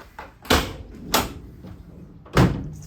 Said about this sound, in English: If we open up the back of the van.